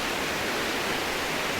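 Kanpai Falls in Fukushima's Takigawa gorge pours with a steady, dense hiss of falling water, constant and close with no pauses.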